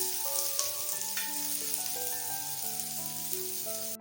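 Onions frying in a pan for benne dosa, cooked until lightly pink, give a steady broadband sizzle that runs throughout with no talking, over a constant bed of soft background music.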